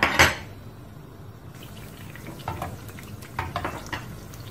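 Sugar beignets frying in oil in a pan over medium heat, soft sizzling under scraping and clinking of a utensil as the cooked pieces are lifted out, close and fairly quiet.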